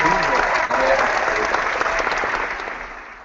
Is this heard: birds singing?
no